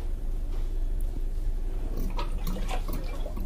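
Water runs into a container in a steady, moderately loud rush, with a few brighter splashing bursts toward the end and no talking.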